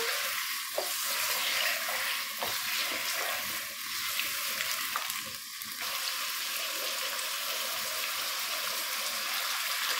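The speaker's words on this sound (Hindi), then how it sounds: "पाँच मिनट तक हम इसको फ्राई करेंगे चिकन को" Chicken fries in a karahi for white chicken karahi, a steady bright hiss of oil with occasional stirring knocks, close and continuous with no talk.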